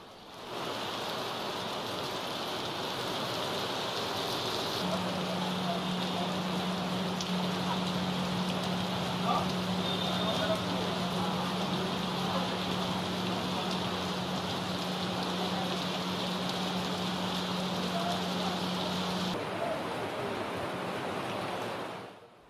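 Heavy rain pours steadily over Hyderabad during flooding, a dense continuous hiss of water drumming on surfaces with no speech, while a faint low hum runs underneath through the middle stretch.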